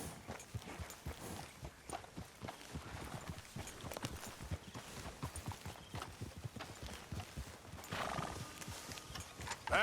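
Horse hooves clip-clopping in the video game Red Dead Redemption 2, a steady walking rhythm of soft thuds over a quiet outdoor ambience, with an occasional faint snort.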